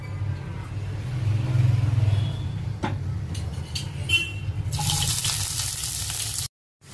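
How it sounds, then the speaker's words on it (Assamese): Sliced onions going into hot mustard oil for a chicken curry: a low background rumble gives way to a sudden bright, hissing sizzle that holds steady for a couple of seconds before cutting off. "এয়া মিঠাতেল যেতিয়া গৰম হ'ল এতিয়া মই পিয়াজখিনি দিছো"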